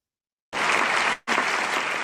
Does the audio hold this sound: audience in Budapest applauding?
yes